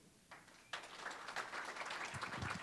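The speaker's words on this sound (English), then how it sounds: "One more round of applause for our new trustees" A crowd at a village board inauguration applauds its newly sworn-in trustees: a steady, dense wash of many hands clapping that swells suddenly after a short quiet lead-in and holds at full strength.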